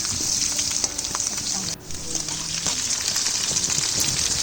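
Onion and garlic frying in a pan for chowmein, a loud, steady close sizzle running throughout, with a brief dip as the food is stirred.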